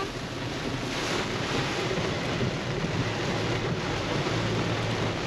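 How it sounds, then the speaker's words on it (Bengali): Heavy monsoon rain pounds down during a drive near Purulia, a loud dense roar of broadband noise with wind rumble, continuous and close throughout with no voices. "সাংঘাতিক জোরে বৃষ্টি হচ্ছে"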